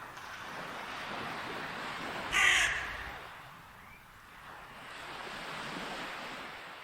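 A single crow caws once, fairly close, over a steady background of ocean surf and wind at sunrise.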